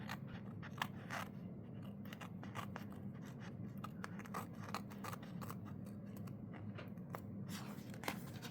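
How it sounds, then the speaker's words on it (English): Scissors slice through sticker paper for a journal spread, making repeated crisp snips and scratchy rasps at an uneven pace, close and quiet, with no speech. "Let's get this cut off."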